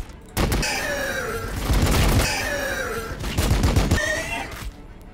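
Sustained bursts of gunfire in the Warhammer 40k Battle Sector strategy game, dense rapid shots rolling in waves with a few short gaps, loud and close.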